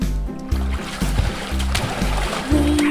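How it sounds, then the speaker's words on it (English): Cartoon water splash sound effects in a children's swimming nursery song, a run of short bright splashes repeating at a steady half-second beat over the music. "Five splashes."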